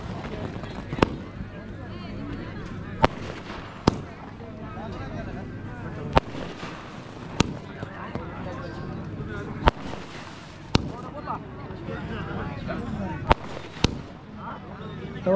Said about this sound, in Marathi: तेव्हा अजून फटाके संपलेत ना मित्र.